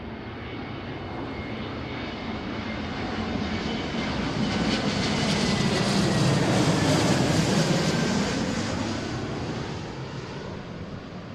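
An Airbus A321neo airliner at Seattle airport gives a broad, steady jet roar that swells to a peak midway and then eases off as it passes at a moderate distance, with no voices over it.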